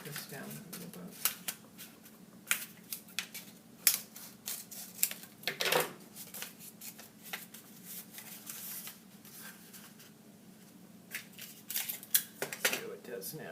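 Scissors snip a strip of sticking-up tape on a craft teepee piece, giving a run of short crisp clicks and rustles, close and fairly quiet, with a faint rattle and soft talk in between.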